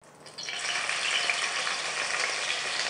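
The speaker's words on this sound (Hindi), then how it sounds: "उसी में मैंने लहसुन अदरक चॉप जो है उसको फ्राई कर रही हूँ" Chopped garlic and ginger sizzle steadily in hot oil left over from frying onions, a bright continuous crackle that swells in within the first half second and holds close and even, with no voices.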